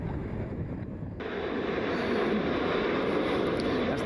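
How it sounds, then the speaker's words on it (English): American Airlines jet taxiing at Cleveland Hopkins International Airport, a steady low engine rumble with some wind noise, growing slightly louder partway through. "American 2336 heading to Dallas. Taxiing out of the gates over there, out of the ramp."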